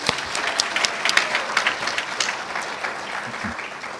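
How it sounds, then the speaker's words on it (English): Applause for the third-place recipient of a 2023 graduate student scholarship competition at a new graduate student reception, steady dense clapping from a crowd that gradually thins toward the end. "One more round of applause for Anthony."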